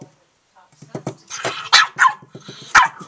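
Pet dog at a family Thanksgiving gathering letting out several short barks mixed with low growls, close and fairly loud, in quick irregular bursts.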